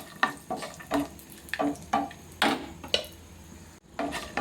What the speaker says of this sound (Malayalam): നമ്മുടെ നിലക്കടല ഫ്രൈ ആവുന്നുണ്ട്